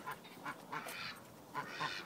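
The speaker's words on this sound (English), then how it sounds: "Step outside, it is Duck and Chicken City." Ducks quack in short, scattered calls outdoors beside a recording studio where ducks and chickens are kept, several bursts over a couple of seconds, faint and somewhat distant, with no talk.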